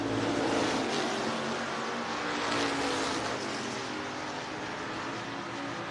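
Stock cars roar around Hancock County Speedway on the last lap, a dense, steady engine drone with broad high-end rasp that holds loud and continuous for several seconds, with no voices.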